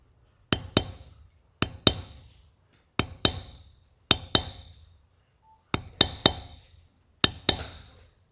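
A mallet strikes a bevel stamping tool into a leather belt during floral tooling, sharp woody knocks falling in pairs, six double hits at an even, unhurried rhythm, close and crisp with quiet gaps between.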